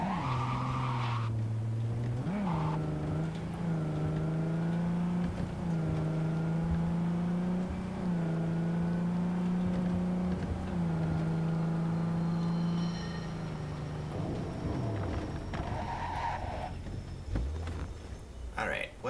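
Car in the video game Cyberpunk 2077 driving hard with a sustained engine whine and drawn-out tire skidding, loud and continuous, while someone talks over it.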